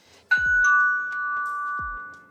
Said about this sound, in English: Just 2 quick ding-dongs.